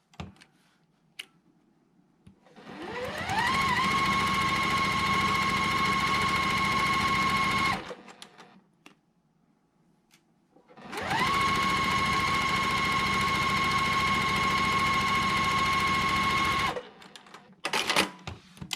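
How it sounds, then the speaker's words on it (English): A sewing machine stitches a quilt block in two long, steady runs, each rising quickly to a constant whirring hum, separated by a pause of quiet handling. "now let's go ahead and stitch the other side"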